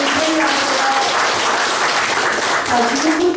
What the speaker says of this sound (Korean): 빠른 케어를 비는 박수 부탁드립니다